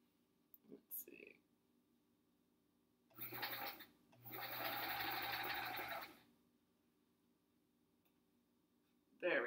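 A sewing machine stitches a nested quilt seam in short bursts, a soft whirring run of a second or so, then a longer steady two-second stretch, close by in a quiet room with occasional quiet talk.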